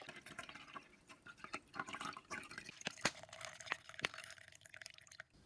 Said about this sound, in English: use a sieve to filter the water